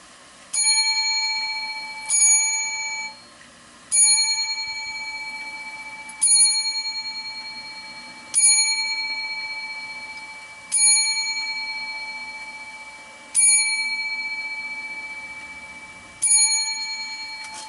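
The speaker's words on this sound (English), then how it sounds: "Actually, 8 victims deserves 8 bells." A bright metal bell is struck eight times at slow, even intervals of about two seconds, each ring sharp and clear, then fading in a long decay, with no talking.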